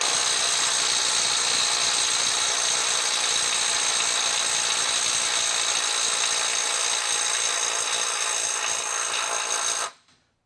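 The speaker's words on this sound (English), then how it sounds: "We're going to go ahead and try it 250" A Milwaukee M12 FUEL subcompact impact wrench hammers continuously at 250 foot-pounds without turning the fastener, a loud steady high-pitched rattling buzz lasting about ten seconds before stopping abruptly.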